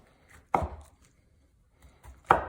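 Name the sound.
knife cutting chicken cucumber rolls into smaller pieces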